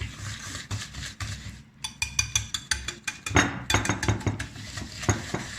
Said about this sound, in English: Just about 2 minutes of whisking should be fine.